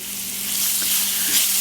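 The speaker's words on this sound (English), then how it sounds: "So I'm going to let this start frying there now" Continuous crackling sizzle of fat pork frying in a hot pan, steady and close, with a few small pops.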